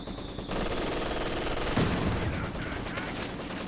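Dense, continuous gunfire and explosions from a Company of Heroes 2 match, with a Maxim machine gun and mortar fire in a battle; a steady loud barrage with a sharp burst near the middle, no talk.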